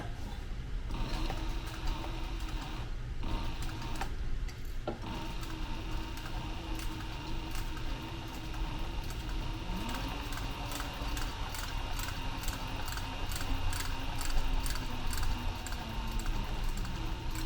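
Sewing machine back-stitching through fanny pack fabric, a steady rapid mechanical ticking that runs continuously and close for the whole stretch, with short pauses near the start and no talking.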